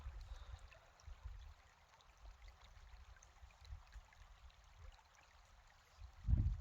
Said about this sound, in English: I don't know if you can make out or if you can hear the water kind of trickling by